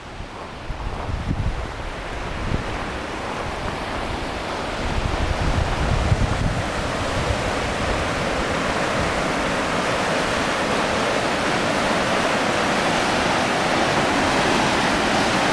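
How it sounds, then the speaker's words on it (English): Mountain creek water rushes steadily at Wychus Creek in the Sisters Wilderness, near a waterfall, a loud and broad roar that continues unbroken throughout. "here we are at the beautiful Wychus Creek, way up in the Sisters Wilderness"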